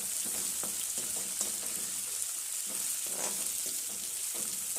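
Salted jackfruit bulbs fry steadily in a pan, a continuous bright sizzle with soft scraping stirs breaking through at an uneven rhythm, close and fairly loud throughout with no talking.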